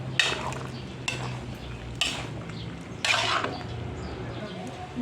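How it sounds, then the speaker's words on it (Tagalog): Pork belly stirred in a pan, with about four scraping strokes against the cookware at steady one-second intervals over a low background. "Ating haluin. Pork belly."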